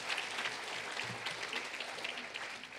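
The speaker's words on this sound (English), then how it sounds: "Well, let's applaud for him anyway." Audience at a college president's executive briefing applauding: steady, dense clapping from a crowd across the full stretch, moderately loud and even.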